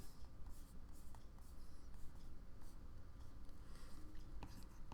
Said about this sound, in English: Writing all this in.